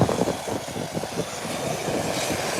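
A video-game Amber 120 aircraft taxis along the ground, giving a steady, broad engine rumble and roar that stays fairly loud and even throughout, with no talking.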